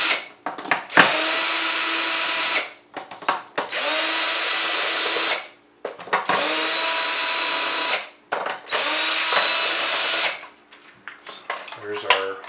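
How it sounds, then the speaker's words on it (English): Power drill unscrewing the plastic shell of a Magstrike Longrifle toy blaster: four loud, sustained whirring bursts of a few seconds each, separated by short pauses with clicks and handling noises. "if you don't want to watch all the unscrewing, you don't have to"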